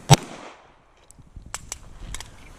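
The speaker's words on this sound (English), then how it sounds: "left-handed I suck at doing two-handed shooting" A handgun fired left-handed, one sharp loud shot at the start followed by fainter clicks and clatter, with no talking.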